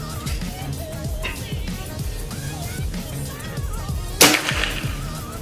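A single sharp, snappy air rifle shot from a folding-stock PCP rifle cracks out near the end over steady background talk and ambient noise.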